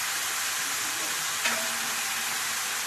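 Chopped carrots and beetroot frying in a pan, a steady dense sizzle throughout with a faint clink near the middle.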